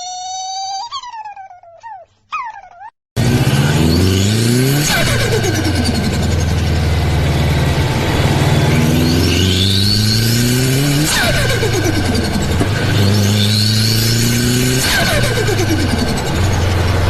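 A 2016 Chevy Cruze with a 1.4-liter Ecotec turbo engine revs loud and close in repeated rising pulls that fall back between them, after a brief burst of other sound at the start.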